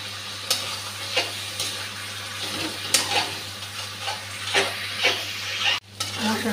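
Spice paste with ginger paste fries in a pan as a spoon stirs it in repeated strokes, each scrape rising over a constant sizzle and low steady hum, with a brief break near the end.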